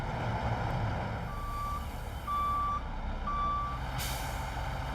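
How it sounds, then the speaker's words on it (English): A gravel truck reverses at a sinkhole fill site, its backup alarm sounding three steady, evenly spaced beeps over a constant low rumble of heavy equipment, with a brief hiss near the end. "a slow but steady parade of gravel trucks and heavy equipment"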